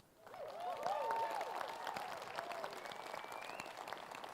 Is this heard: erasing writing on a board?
no